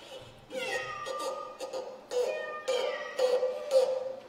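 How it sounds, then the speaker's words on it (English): A hybrid domestic cat cross gives loud, close, drawn-out yowling meows, about five in quick succession with short gaps between them. "Everybody's been listening to this bloody cat all morning."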